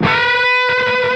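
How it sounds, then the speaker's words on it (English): An electric guitar plays a unison bend: two strings sounding together as one is pushed up in pitch to meet the other, loud and sustained with a harmonic-rich tone and a brief gap partway through. "So a normal unison bend would sound like this."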